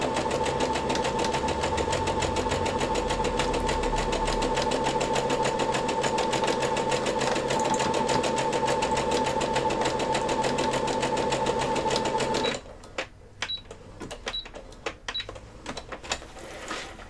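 A sewing machine runs steadily, stitching a top seam for a costume build, with a loud continuous mechanical whir for about twelve seconds before it stops, leaving faint clicks and handling noises.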